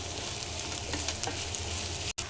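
Onion and grated mature coconut sauté in a pan for a Kerala chicken perattu, giving a steady close sizzle with faint scraping of stirring, broken by a brief dropout near the end.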